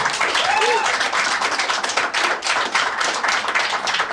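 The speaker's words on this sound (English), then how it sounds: "Not applause from everybody" A comedy audience gives partial, patchy applause: steady clapping from part of the crowd, fairly loud and continuous throughout.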